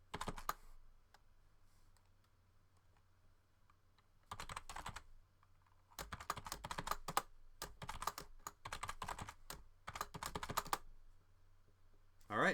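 Computer keyboard typing in short bursts of rapid key clicks separated by quiet pauses while a new root password is entered, close and fairly soft over a low background hum.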